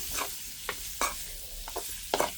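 Paneer cubes fried and stirred in a thick masala gravy, with a few distinct spatula scrapes and bursts of sizzling from the pan, close and fairly loud.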